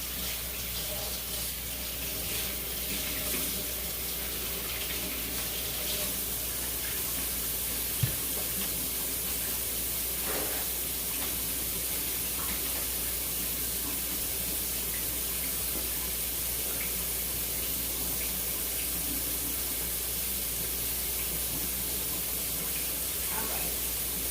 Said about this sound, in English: I'm gonna rinse my fingers off.